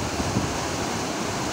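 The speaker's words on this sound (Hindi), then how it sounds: "पानी का शोर है, आई थिंक बस एक ही डोर खुला हुआ है जो साइड से पानी निकल रहा है" Water rushes out through an open gate of the Chotiari Reservoir dam, a steady, loud broadband roar with wind buffeting the microphone and no distinct breaks.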